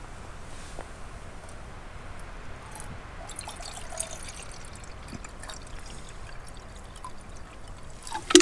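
Water poured from a bottle into a titanium mug for a Windmaster camping stove on a windless wild camp on the Nantlle Ridge, a faint steady trickle and splash over quiet outdoor background, ending with a brief louder clink.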